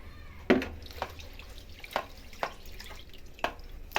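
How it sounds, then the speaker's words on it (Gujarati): Water splashes and sloshes in short bursts as rice is rinsed by hand, with several distinct swishes spaced a second or so apart, close by. "આ રીતે ચોખ્ખા પાણીથી બે વાર ધોઈને"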